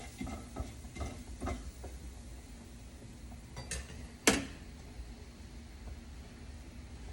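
Spices such as asafoetida, coriander powder and cumin powder stirred in a cooking pan with a utensil, giving soft scraping and light metallic clinks followed by one sharper clank, quiet and close.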